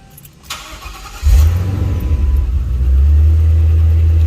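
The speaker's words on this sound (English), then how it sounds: "I'm going to go inside the car and fire it up, and let's see if we get a check engine light." Ford P71 car engine cranks and catches after a brief click, revs up loudly, then settles into a steady, somewhat high, slightly rough idle close by.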